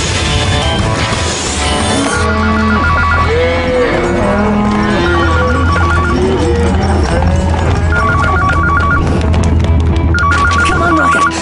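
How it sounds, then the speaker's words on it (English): A telephone rings in a video game, its repeated trilling bursts recurring over busy game music and sound effects, loud throughout. "There's a phone ringing back at the house!"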